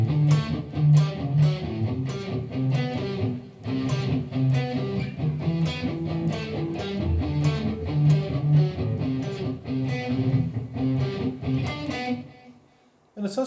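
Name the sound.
electric guitar riff played with overdrive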